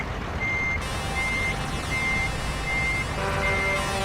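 A loud, continuous vehicle horn blares over heavy traffic rumble, with steady repeated beeping tones cutting through the noise.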